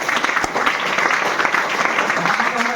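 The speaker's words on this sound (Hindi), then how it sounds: "एक बार चाहूंगा इनके लिए जोरदार ताली।" A crowd at a business opportunity meeting in Isuapur, Chapra bursts into strong, sustained applause, a close, continuous wash of clapping with faint voices mixed underneath.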